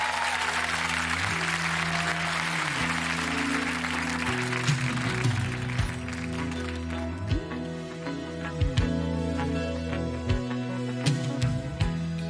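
Applause from a television gala audience for two singers, a broad sustained wash heard under and alongside the sustained tones of the opening music of their song.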